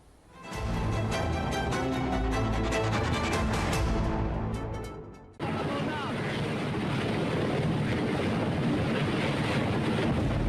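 A helicopter's engine and rotor roar loudly and continuously, cutting off briefly partway through before the heavy mechanical drone resumes.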